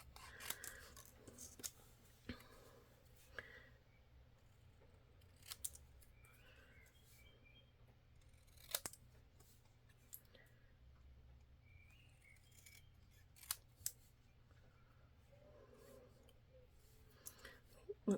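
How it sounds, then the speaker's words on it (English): Scissors trimming around a paper card piece, a faint series of sharp snips and clicks scattered irregularly through a quiet room. "And then I'm going to trim around it."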